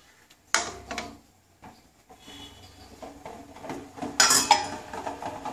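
Metal utensil stirring food in a cooking pot on a gas stove, giving a few scraping clinks with two louder bursts of clatter between quieter rustling, close by with no talk.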